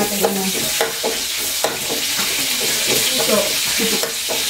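Pork sizzles loudly in hot oil while a utensil scrapes and stirs it around the pan in irregular strokes, a steady crackling bed under the clatter, with a brief spoken word.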